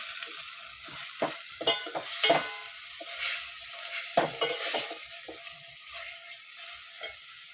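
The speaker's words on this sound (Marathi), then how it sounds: "गरम मसाला, तोही छान परतून घेणार आहोत। हे सर्व बारीक गॅसवरच करायचं।" Garam masala sautéing in a pan over a low flame for misal, a soft continuous sizzle broken by repeated stirring scrapes, close and moderately quiet, with no voices.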